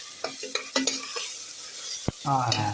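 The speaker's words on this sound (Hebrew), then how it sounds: "אפשר פשוט לראות שאני פשוט מערבב פה את הבצל" Onions frying in a pan while being stirred, a continuous hissing sizzle with several clicks and scrapes of the utensil against the metal, one louder knock near the end.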